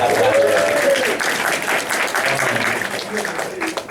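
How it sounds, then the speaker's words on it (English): A room of attendees at a sponsoring training claps steadily in a round of applause while a voice talks briefly at the start and scattered voices come through the clapping. "I get a round of applause for you guys"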